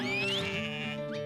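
Sheep in a flock on New Zealand high country bleat, several overlapping wavering calls close by, loud and continuous with no talk.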